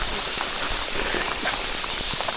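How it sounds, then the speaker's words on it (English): Heavy rain falls in a deep fern-lined gorge on Cape York, a loud, steady broadband hiss with scattered patters and drips, close and continuous. "It's also pissing down. It's also raining."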